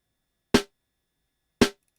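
Two isolated snare drum transients in Ableton, each a sharp, dry crack with a fast decay, about a second apart and separated by silence.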